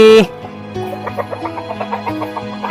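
Chickens cluck in a quick, steady series of short calls close by, following a brief voice at the start.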